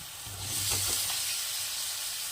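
Prawns sizzle and fry in a hot spice paste as they are stirred, a steady close hiss with a few scraping stirs early on.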